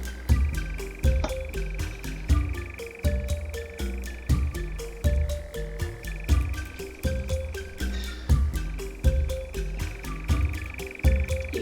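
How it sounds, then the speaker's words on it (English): Insect chirps in the summer night ambience of the Ancient Cities village game, a steady high pulsing trill layered over repeated low croaking calls that run throughout. "You hear those crickets?"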